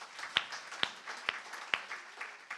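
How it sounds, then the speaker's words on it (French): Audience at a press industry event in a media agency office gives light applause, a soft background patter punctuated by four sharp, evenly spaced claps close by. "On peut les applaudir aussi?"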